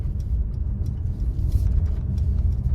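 A 2023 Mercedes-AMG GLC 43 Coupe with twin-turbo V6 pulling in sport mode, heard from inside as a steady, deep low rumble that holds throughout without a clear rise, no talking over it.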